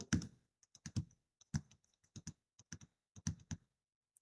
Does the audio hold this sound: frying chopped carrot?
no